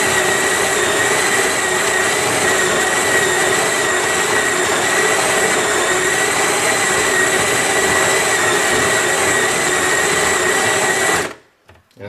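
A Capresso 556 stainless steel burr grinder grinds coffee with a loud, steady mechanical whir that runs unbroken for about eleven seconds, then cuts off abruptly into near silence.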